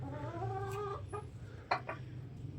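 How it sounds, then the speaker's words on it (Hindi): Hens clucking in a backyard coop set among budgie cages, a few soft drawn-out clucks followed by short sharper calls, fairly close over steady low background hum. "अभी मैं आ गया हूँ मुर्गियों के पास"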